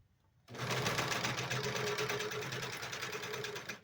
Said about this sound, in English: So I'm once again sewing on this. It's a Janome New Home 104D.